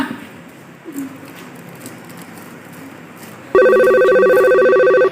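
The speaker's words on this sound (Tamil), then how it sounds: "வேற போன் வந்துச்சு" An incoming call sets off a loud electronic telephone ringtone. It cuts in suddenly over a quiet room and rings steadily as a bright, repeating tone for about a second and a half.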